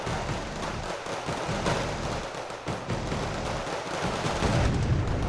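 Infantry gunfire crackles in a war strategy video game, a dense, steady rattle of small-arms shots with dull booms mixed in, continuous and moderately loud with no talking.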